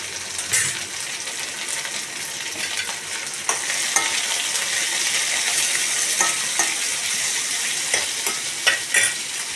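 Pirandai frying in a pan with tamarind, salt and curry leaves, a steady bright sizzle with occasional scrapes and stirring knocks, close and continuous without talk.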